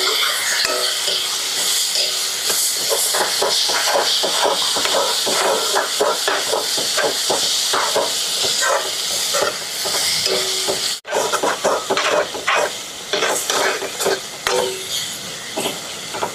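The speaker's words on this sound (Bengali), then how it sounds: "এখন ভালো করে নাড়াচাড়া দিয়ে নিব।" Onion and egg filling with turmeric and chili powder stirred in a frying pan over a gas flame, a steady loud sizzle and hiss with repeated scraping strokes of a spatula running throughout, no talking.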